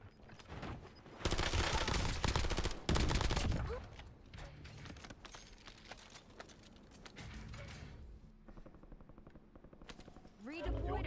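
Bursts of automatic gunfire in the video game Warzone, dense loud rattling volleys that cut off, then scattered quieter shots and mechanical clicks, with voices talking over it.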